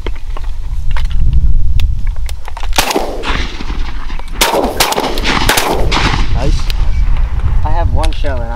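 Mourning dove hunt with several loud, close shotgun blasts cracking out in quick succession, with excited voices of hunters talking around them.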